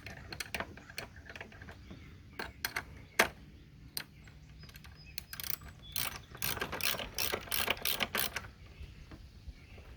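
A hand ratchet tightens a 10mm bolt on a Jeep Commander 5.7 Hemi engine during a serpentine belt job: close, rapid clicking in uneven bursts that grow busier toward the end.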